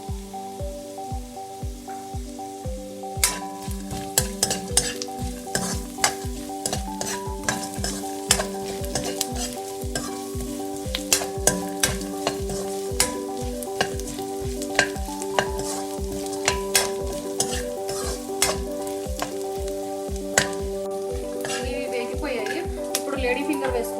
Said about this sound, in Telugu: దీంట్లో కొంచెం జింజర్ గార్లిక్ పేస్ట్ వేస్తున్నాను.